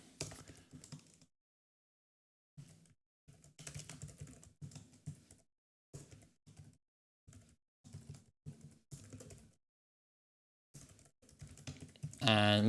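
Typing on a computer keyboard comes in short irregular bursts of close, crisp key clicks, with brief silences between the flurries.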